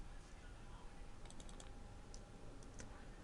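Typing on a computer keyboard while designing T-shirt artwork in CorelDraw: a faint, quick run of key clicks, then a few scattered taps, under a low steady background hum.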